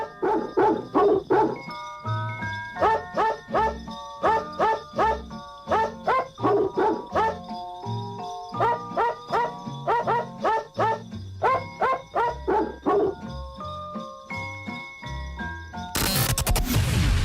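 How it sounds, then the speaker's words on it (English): Singing dogs: a recording of dog barks pitched into a holiday tune, rhythmic clipped yaps in quick melodic runs over a light jingling backing, ending in a burst of noise. "Let's enjoy the singing dogs for a moment."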